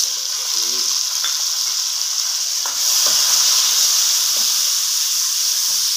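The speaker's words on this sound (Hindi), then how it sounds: "ये देखिए प्याज टमाटर फ्राई हो रहे हैं।" Steady, close sizzling of browned onions and tomatoes frying in a pan, a constant hiss with occasional stirring clicks and scrapes.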